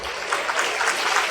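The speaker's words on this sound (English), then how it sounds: "Another round of applause." Audience at a Model UN workshop applauding, a short, dense burst of clapping from a room of delegates.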